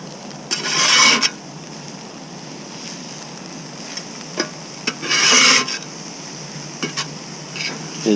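Metal griddle scraper blade dragged across a flat grill griddle from a seven-piece professional set, two long gritty scraping strokes and a few shorter scrapes and taps, close and fairly loud with no talk.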